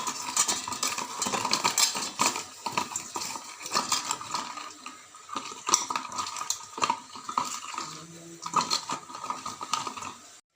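Cut pointed gourd pieces being mixed by hand with salt and turmeric powder in a bowl, a steady run of close, wet squelching and clinking mixing noises with brief pauses and no talk.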